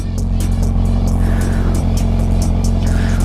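A Kawasaki Z900 motorcycle engine runs loud and near in a steady low drone, with brief higher bursts and rattles riding over it while the bike is underway.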